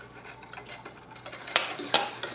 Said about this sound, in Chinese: 我哋就可以將呢一個煉奶擺埋落去撈勻佢